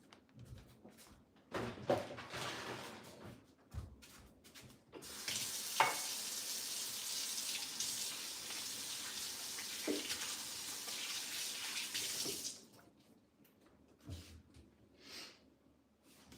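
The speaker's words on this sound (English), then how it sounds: "I'm gonna go wash my hands." Hands being washed under a running kitchen tap, a steady rush of water lasting several seconds between scattered clinks and knocks, with quiet stretches on either side.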